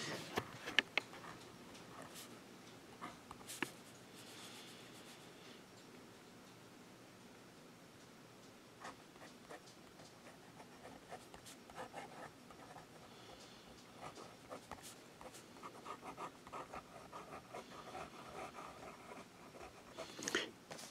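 Fine-nib fountain pen with Noodler's Aristocracy ink writing on Rhodia Dot paper, a faint, quiet scratching that keeps going with soft taps and strokes, close up, against a low hiss.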